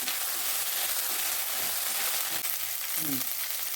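Ginger and garlic frying in a pan for a restaurant-style mixed vegetable dish make a loud, dense, continuous sizzle, close and steady throughout.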